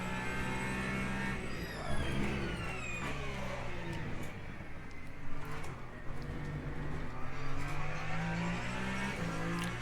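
A Ferrari race car at Silverstone, its engine note rising and falling through gear changes with passing engine noise from other cars, continuous and fairly loud throughout.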